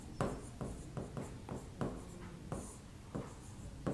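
Handwriting with a pen, close and quiet: a run of short scratchy strokes in an irregular rhythm, separated by brief pauses, with no voices.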